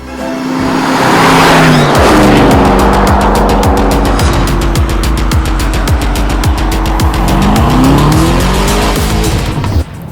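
Aston Martin DBX driven hard, its engine loud and steady with rising and falling revs, a fast rhythmic ticking texture and tire squeal running through the whole stretch, up close with no talk.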